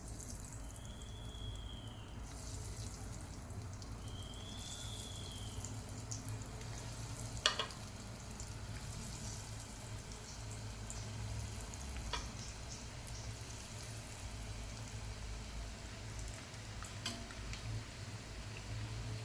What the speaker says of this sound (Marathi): आता आपण ह्याला फ्राय करू आता तेल तापलं आहे आपण आता ह्याच्यामध्ये आपल्याला बॉल्स टाकायचे आहेत